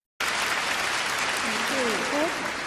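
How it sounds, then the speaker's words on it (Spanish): A North Korean audience applauds in unison, a dense, steady wash of clapping that starts abruptly and holds at an even level, with a faint voice rising briefly beneath it. "hasta el final donde aplauden de manera sincronizada"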